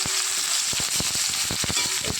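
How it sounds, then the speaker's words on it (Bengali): Tomatoes frying in a little oil in a wok, a steady close sizzle with bursts of crackling spatter and occasional stirring clatter, no talking. "টমেটোগুলো হালকা করে ভেজে নেব।"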